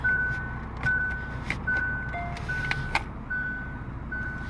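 Reversing beeps from a Kia Stinger GT twin-turbo V6 as it is put into reverse, a steady series of short, evenly spaced electronic chimes repeating roughly every half second over a low engine hum inside the cabin.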